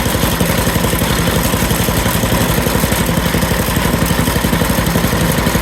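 A Craftsman snow blower engine idles steadily, a loud close rhythmic putter with rapid even firing pulses and no talk over it.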